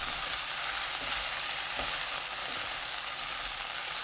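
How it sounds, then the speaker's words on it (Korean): Green onion stir-fried with beef and potatoes in oyster sauce gives a steady, even sizzle and frying hiss that holds unchanged throughout, with no voices. "파 넣고 30초 볶습니다."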